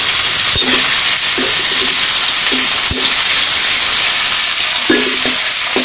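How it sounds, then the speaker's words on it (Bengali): Chopped onion, bay leaves, whole cumin and peeled garlic cloves frying in hot oil for a Bengali fish curry, with a steady loud sizzle broken by a few sharp stirring scrapes and knocks. "তেজপাতা, গোটা জিরে, কোয়া ছাড়ানো এই যে গোটা রসুন, আর দিয়ে দেবো কুচানো পেঁয়াজ।"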